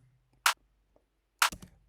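An electronic clap sample in an Ableton drum track sounds twice, a second apart, each a sharp bright snap with a short tail against quiet.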